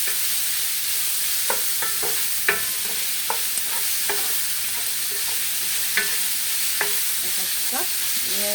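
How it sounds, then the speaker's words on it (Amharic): Onions fry in hot oil with a steady, dense sizzle, broken by regular scraping stirs of a utensil against the pan, close and fairly loud with no talking. "እዚህ ጠበስኩበት ዘይት ላይ ሽንኩርት እናደርጋለን ማለት ነው።"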